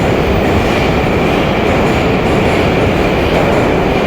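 Loud, steady rumble of a train in Moscow's underground Komsomolskaya metro station, a continuous roar of wheels and motors filling the space with no pauses.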